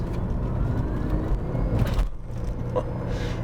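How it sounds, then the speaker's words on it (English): A Nissan Stagea with a turbocharged engine runs nearby, giving a continuous loud rumbling drone with turbo whistles and induction noise, and a short whooshing release near the end. "it sounds like a jet. It's all like whistles and induction noise."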